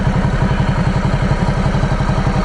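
Idling up close, a Ducati Multistrada 1200S fitted with a carbon fiber aftermarket Termignoni exhaust throbs in a steady, rapid, lumpy low pulse, loud and unbroken throughout.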